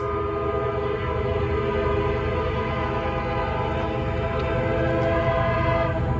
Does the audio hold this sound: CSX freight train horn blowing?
yes